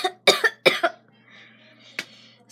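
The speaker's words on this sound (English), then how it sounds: "Sorry for recording me coughing." Someone coughs close to the microphone in a quick cluster of two or three sharp hacks, followed by a quiet pause and one more short cough.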